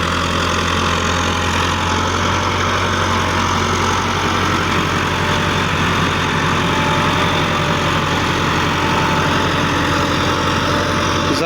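A 2010 Massey Ferguson 375 tractor in good condition idles close by, a loud, steady low diesel throb that holds unchanged throughout with no voices.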